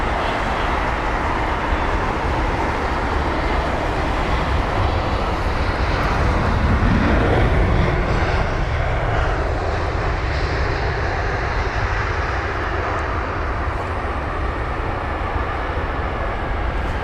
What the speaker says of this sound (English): So, the Lufthansa 320neo.